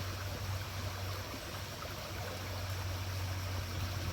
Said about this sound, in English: dump the water out a little bit just to get it a little bit of headspace there